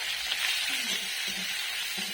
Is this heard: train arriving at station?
no